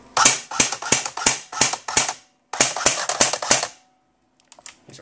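Sharp snapping semi-automatic shots from an Elite Force Tavor 21 airsoft rifle, fired one at a time in two quick runs of about half a dozen each, loud and close, then brief faint clicks.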